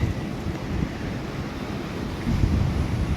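Surf washes onto Goa beach near a river mouth, a dense low rumble of breaking waves mixed with buffeting wind noise on the microphone, steady with a slight swell near the end.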